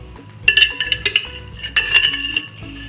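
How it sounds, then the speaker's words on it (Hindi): Desi ghee is spooned into a pan on a lit stove at the start of a pumpkin halwa, with metal utensil clinks and scrapes against the pan in short clustered bursts, close and fairly loud, no talking. "उसके बाद हम डालने जा रहे हैं पैन में देसी घी।"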